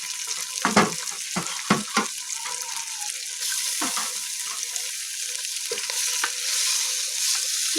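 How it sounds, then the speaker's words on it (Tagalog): Garlic frying in a pan for an Arabic chicken biryani, a continuous close sizzle with several sharp stirring scrapes and clatters early on, then a steadier hiss with no talking. "Lutuin natin ang ahos muna."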